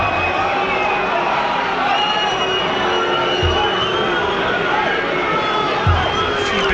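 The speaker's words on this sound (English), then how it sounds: "Already maybe able to hear the crowd already having a go at Chesham for trying to slow the game down." Football crowd at a Torquay United v Chesham United match jeering Chesham for slowing the game down, a steady continuous roar of massed voices with a few low thumps, loud throughout.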